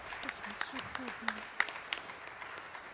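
A crowd at the SGDQ 2018 speedrun event claps and applauds steadily, with scattered sharper claps standing out and a voice briefly audible beneath the applause.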